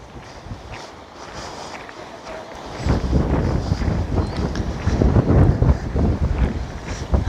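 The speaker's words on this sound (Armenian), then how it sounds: "համ քամի է" Wind blows near a river swollen with water, starting as a soft rush and then rising to heavy gusty buffeting on the microphone that lasts to the end.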